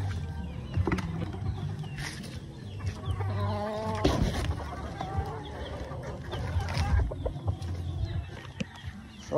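Rhode Island Red chickens cluck and murmur at moderate distance, with scattered calls rising over a low background of farm noise and faint rustling.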